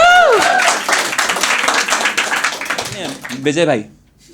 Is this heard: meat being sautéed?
no